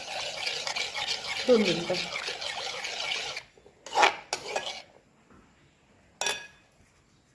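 Curd is whisked with sugar in a bowl, producing a steady close rasping stir for a few seconds before it stops, followed by brief clinks and a short spoken remark.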